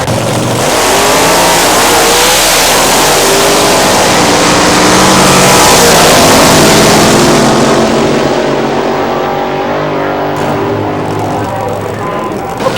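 A drag racing car at the track on the Wild Bunch circuit revs its engine loudly and steadily, a close, dense roar that swells in the middle and eases slightly toward the end.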